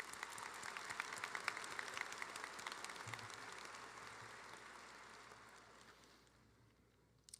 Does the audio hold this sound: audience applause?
yes